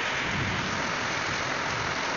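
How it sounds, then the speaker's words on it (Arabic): A thunderstorm with heavy rain and sleet batters Egypt's Mediterranean coast around Damietta, Port Said and Ismailia, a dense unbroken roar of downpour, close and loud throughout. "والآن أمطار رعدية وثلجية، أمطار غزيرة على الإسماعيلية وعلى دمياط وعلى الإسكندرية وبورسعيد"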